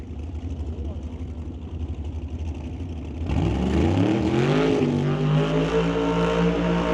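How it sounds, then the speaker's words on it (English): A 1967 Shelby Pro Modified drag car with an 814 cubic inch Ford engine lights up a burnout at a raceway, its roar suddenly swelling loud and rising in pitch after a steady idle-like rumble under track commentary. "running that 814 cubic inch Ford motor under the hood"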